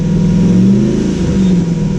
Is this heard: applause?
no